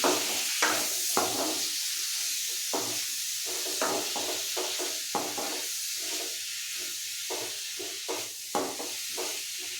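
Bilimbi and green chillies sautéing in hot oil for a pickle, a continuous hiss and sizzle broken by frequent sharp stirring scrapes at an irregular rhythm, close and alone.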